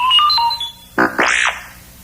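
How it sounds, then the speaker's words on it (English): R2-D2-style electronic beeps mark the page turn in a Star Wars read-along: a few steady tonal bleeps, then a brief pause, then a rising and falling warbling chirp, loud and close with no talk. "You'll know it's time to turn the page when you hear R2-D2 beep like this."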